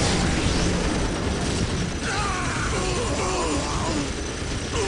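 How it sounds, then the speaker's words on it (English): Grenade launcher or mortar blasts in the real-time strategy game Warhammer 40,000 Dawn of War Dark Crusade, a dense, unbroken roar of battlefield explosions and rumble at steady loudness, with no clear separate bangs. "They're using either grenade launchers or mortars to attack this machine gun."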